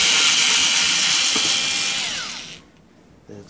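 A power screwdriver whirs loudly while backing out screws from an HP Pavilion dv7-6100 series laptop during disassembly, a steady close whine that winds down and stops near the end, followed by a faint clicking handling sound.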